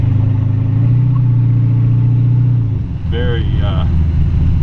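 A 1929 Ford Model A pick-up street rod drives with a low, steady engine drone that eases off partway through, while someone talks over it.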